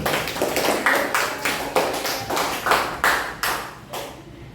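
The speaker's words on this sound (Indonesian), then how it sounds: "Tepuk tangan untuk Silvi." Classroom applause, a group of people clapping in a steady rhythmic beat of about ten loud, close claps, each a sharp burst, fading slightly at the end.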